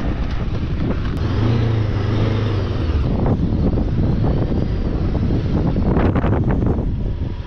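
Strong, cold wind roars steadily across an exposed campsite at night, a loud continuous rush over the microphone with gusts swelling near the end and no speech.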